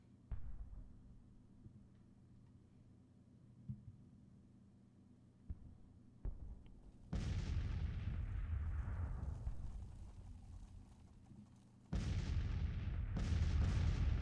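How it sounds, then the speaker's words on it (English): Six-pounder artillery guns firing at range in the Civil War strategy game Grand Tactician: a quiet stretch with faint thuds gives way to heavy booming volleys and sustained rumbling, one long barrage, then another burst near the end. "I mean, 6-pounder guns firing at range."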